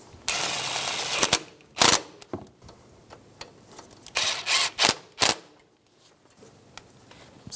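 Bolts on the CV axle of a 2007-2017 Ford Expedition are run down with a power tool: two or three short bursts of buzzing rattle separated by quiet pauses, close by with no talk.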